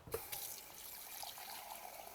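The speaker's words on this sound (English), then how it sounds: "Let me put some water in this." Tap water running steadily into a pot of Spanish rice and stock in a kitchen, a continuous close hiss and splash lasting a couple of seconds with no talking.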